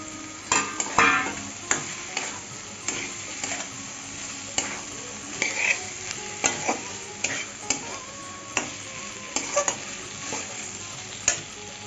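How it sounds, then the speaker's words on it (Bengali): Pointed gourd frying in spiced oil for potol korma, a continuous sizzle broken by regular scraping and tapping stirs of a spatula against the pan, close and clear with no talk. "মশলাটা কষানো হয়ে গেছে তেল বেরিয়ে গেছে এখন আমি পটলগুলি দিয়ে দিচ্ছি"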